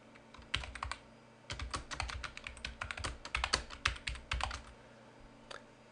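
Fingers type on a computer keyboard in quick, irregular bursts of clicky keystrokes, close and clear, with short pauses between runs.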